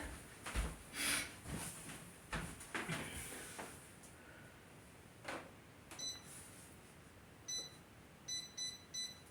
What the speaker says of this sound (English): I'm going to set my timer real quick for the bread.